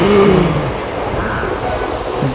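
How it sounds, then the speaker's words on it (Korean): Steady rain hissing with a low rumble of thunder in the Zelda: Skyward Sword video game, a continuous loud wash with a few brief tonal game effects at the start. "비도 오고 번개도 치는데"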